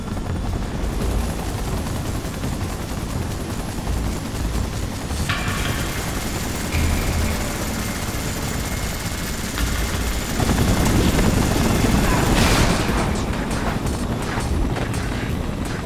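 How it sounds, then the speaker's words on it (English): Rotor noise from a helicopter in the Spider-Man 3 video game forms a dense, steady roar with crashing, rumbling action effects mixed in throughout. "Gotta stop the chopper from hitting the street."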